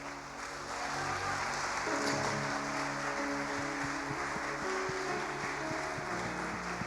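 Congregation applause at an evangelical sermon rises after the first second and continues steadily while music plays underneath.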